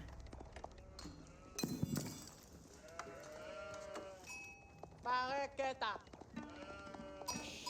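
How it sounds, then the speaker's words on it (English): Sheep bleat in the Age of Empires 4 strategy game, several short wavering calls scattered over game effects and soft clatter, while a commentator talks throughout. "Sheep now being obtained."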